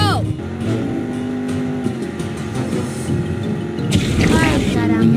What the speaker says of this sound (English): Everybody ready? Then start your engines.